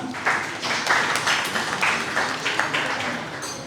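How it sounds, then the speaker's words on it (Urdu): Audience applause fills a hall at a children's assembly in Lahore, steady broadband clapping with rhythmic swells that holds for several seconds and eases slightly near the end. "آپ سب کی بھرپور تالیوں میں"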